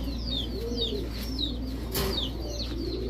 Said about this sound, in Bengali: এখন দেখাবো ছাড়াছাড়ি করা এক জোড়া খাকি কবুতর।